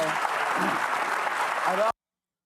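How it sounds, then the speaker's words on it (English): Studio audience clapping on a television talk show, a dense, continuous round of applause with some voices mixed in, steady in level before cutting off abruptly. "Why they clapping?"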